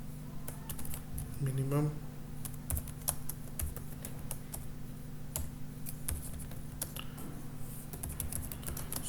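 Steady, close clatter of keys on a computer keyboard as someone codes, quick irregular taps throughout over a low electrical hum, with a brief spoken word near the start.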